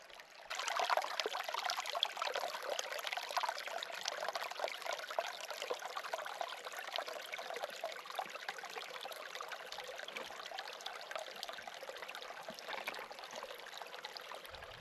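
Steady water of Duck Creek trickles and burbles over rocks, a continuous close flow with no voices.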